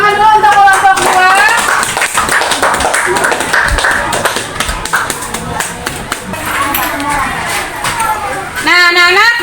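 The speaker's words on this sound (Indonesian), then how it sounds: "Kita tepuk tangan dulu untuk kelompok 2." Classroom of students clapping for group 2 before a presentation, a dense patter of hands under loud overlapping voices and a teacher speaking throughout.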